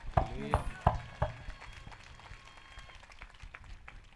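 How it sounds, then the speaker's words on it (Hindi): Members of a congregation at a prayer meeting give a few loud, scattered claps near the start, then the clapping thins to faint sporadic pats against a quiet room. "जिनको बात समझ में आ गई है वो धन्यवाद कर रहे हैं तालियों के साथ"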